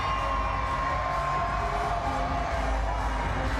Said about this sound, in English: Crowd making a lot of noise, sorry.